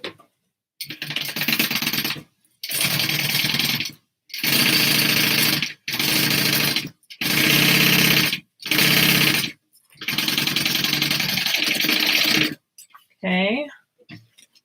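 Sewing machine stitching a handbag in bursts, loud mechanical clatter running a second or two at a time with short pauses between, ending with a brief voice.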